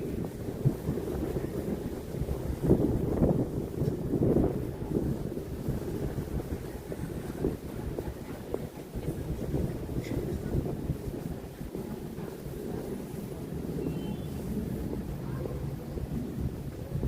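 Blustery wind buffets the microphone on York Avenue, Manhattan, with a constant low rumble and roar, fluctuating in strength over a noisy city street background.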